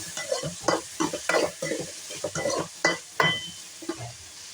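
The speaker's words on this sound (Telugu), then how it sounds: "కొంచెం పసుపు, ఈ 2 వేసుకొని బాగా కలుపుకొని" A spoon scrapes and stirs okra curry in a frying pan after turmeric goes in, producing an irregular series of close scraping strokes over a soft, continuous sizzle.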